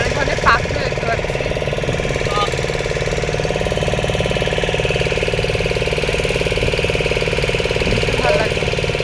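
A motor boat engine runs steadily on Chilika lake, a loud continuous mid-pitched chugging throughout with wind noise and a voice speaking briefly over it.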